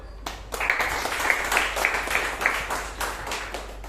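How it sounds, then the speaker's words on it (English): Audience applause at a Toastmasters meeting in Bangalore: broadband clapping from a room of people, moderately loud and sustained for several seconds after a short quiet start. "Please welcome with a big round of applause, Sampath."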